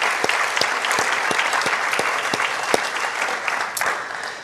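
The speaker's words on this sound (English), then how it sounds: "So let's give her a round of applause." Audience applause at a high school awards night in 2022, a steady dense wash of clapping with sharp individual claps standing out, sustained and fairly loud throughout.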